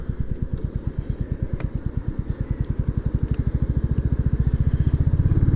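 A Royal Enfield Classic 350 thumps along on the road, its steady close-up single-cylinder beat firing evenly and quickening slightly toward the end.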